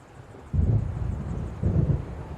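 In the game Alan Wake, a storm builds with low rumbling wind and thunder, two heavy surges rolling in a second apart over a quieter windy background.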